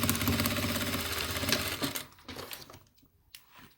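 A sewing machine stitches the lining of a fabric toiletry bag, running loud and steady for about two seconds before stopping, followed by a few faint handling clicks.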